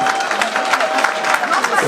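Crowd applause at a gala evening in Hamburg, dense steady clapping with some cheering from a lively audience, loud and continuous, with voices mixed in.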